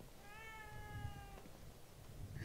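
In the horror video game The Evil Within 2, a cat gives one drawn-out meow over a low, steady ambient background, faint and fairly close.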